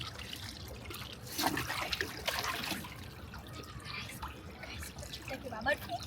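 Water sloshes and splashes as a person dunks under the surface of a swimming pool, a close, continuous watery churn mixed with people talking.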